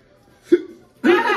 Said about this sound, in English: you're gonna get hiccups